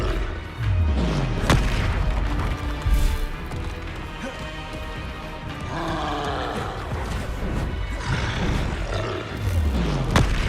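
Spell explosions from Hogwarts Legacy, the video game, go off in deep booming blasts and roaring crashes, repeated across a busy combat mix with whooshing effects.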